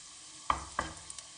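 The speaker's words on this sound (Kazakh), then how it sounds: "Бір 2 минут ары кетсе қуырамыз чеснокты" Quiet sizzle of garlic frying in oil, with two sharp utensil clinks against the pan partway through.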